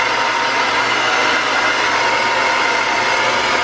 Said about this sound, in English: blow dryer and just sort of like dry my hair